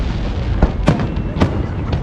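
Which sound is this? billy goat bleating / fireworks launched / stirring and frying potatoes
fireworks launched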